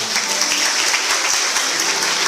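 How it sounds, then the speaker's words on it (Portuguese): A church congregation at a Catholic charismatic renewal gathering applauds steadily and densely, a continuous wash of clapping with no voices standing out. "Aplaude o Espírito Santo."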